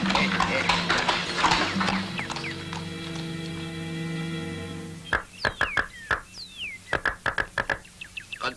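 Cartoon horse hooves clip-clop in a quick, uneven run of sharp knocks in a Cuban animated film, loud and close, following a stretch of music and voices at the start.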